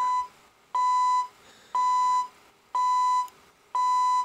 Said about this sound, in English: a nice soft little alarm to get you up and not wake up everybody else in the house